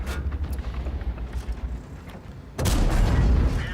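A tank's main gun fires in the World of Tanks video game: a low rumbling lull gives way to one sudden, loud, heavy boom that lingers with a deep roll.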